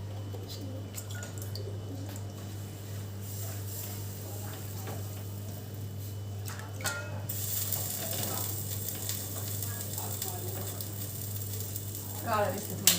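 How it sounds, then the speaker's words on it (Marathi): Bitter gourd slices sizzle in oil on a griddle, a steady frying hiss with light crackles and drips running throughout, with a steady low hum underneath. "कारले आणलेले थोडे आपले गोल चकल्या करून तेला मिठात आपल्याला तव्यावर फ्राय करून घ्यायच्या"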